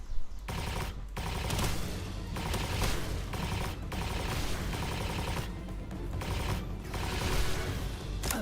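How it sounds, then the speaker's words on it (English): Gun firing in Palworld, sustained rapid bursts of automatic shots broken by brief pauses, dense and loud throughout. "if I start shooting with this thing"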